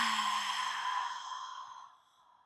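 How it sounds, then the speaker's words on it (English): A long, airy Ujjayi ocean breath through the nose, a soft hissing rush at close range that holds steady and then fades out over about two seconds. "Inhale through the nose and exhale it out."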